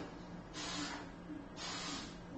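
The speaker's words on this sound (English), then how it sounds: "I'm going to give it a light spray." Hairspray is misted onto freshly curled hair in two short hissing bursts, each about half a second long, soft and close, with quiet room noise between them and no talk.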